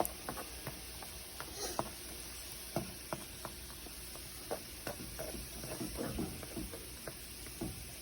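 Jamaican dumplings fry in a pan with a faint steady sizzle, punctuated by soft irregular taps and knocks from turning them, close and quiet with no talk.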